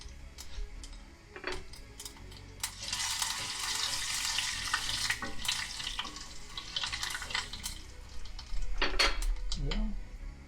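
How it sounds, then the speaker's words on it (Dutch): Oil heating and frying in a pan while cooking dahl, a hissing sizzle that swells midway, with sharp clinks of pots, utensils and cutlery scattered throughout, no speech. "En nu gaan we dus frituren."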